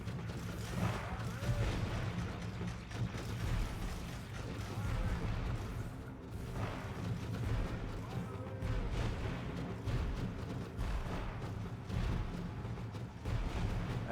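Steady rumble of turrets and warships firing in a strategy video game, a dense continuous barrage of distant booms and impacts layered over a low droning soundtrack.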